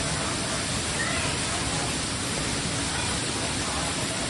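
Steady, dense rush of falling water from a waterfall, broadband and continuous like heavy spray, loud and unbroken throughout with no clear voices.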